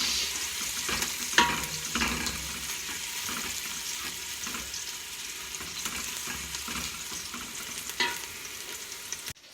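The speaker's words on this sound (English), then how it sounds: "Then we put our small onion. Let it get golden brown." Small onions fry in a pan for Kuwaiti machboos laham, giving a soft, continuous sizzle with a few light clinks of a utensil. No voices are heard.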